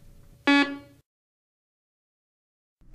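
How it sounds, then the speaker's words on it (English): A Garrett PD6500i walk-through metal detector gives a single loud, harmonically rich buzzer tone lasting about half a second as it switches on, followed by near silence. "turn the detector on."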